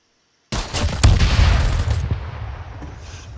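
An FN gun fires in the Roblox video game, a loud, dense burst of rapid shots starting abruptly and then trailing off into a softer echoing tail, with no talking.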